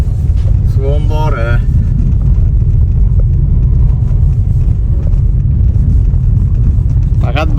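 A car drives along a rough rural road about 50 km beyond Shofirkon, a steady loud rumble of engine and road noise running throughout, with voices talking over it in places.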